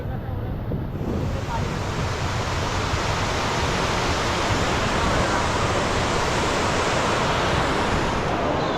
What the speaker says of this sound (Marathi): जे नदीचं पाणी येते ना वरून तर त्याला या ठिकाणी अडवून त्यांनी ना असं प्लेन नाही आहे आणि त्या ठिकाणावरून ते पाणी एकदम असे बॉल्ससारखं पडते